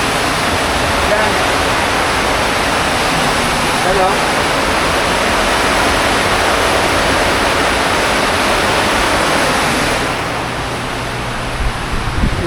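Floodwater surging after a night of heavy rain, a loud, unbroken rushing roar close by that easily drowns the quiet voices beneath it, easing slightly near the end.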